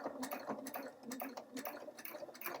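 A sewing machine runs steadily, its needle making rapid, regular ticking stitches close by with no talking.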